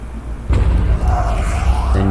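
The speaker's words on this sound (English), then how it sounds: "Then when you hear the explosion" A wither spawning in Minecraft 1.16 sets off a sudden loud booming explosion about half a second in, followed by a sustained rumbling roar with a rising tone, close and alone without talk.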